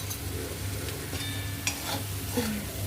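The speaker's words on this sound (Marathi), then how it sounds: "मिक्स करायचं तेलावरती आपल्याला याच्यामध्ये फ्राय करून घ्यायचं आहे" Paneer pieces being mixed and fried in oil, with a steady soft sizzle under intermittent scraping and stirring sounds, a couple of sharper clinks, no voices.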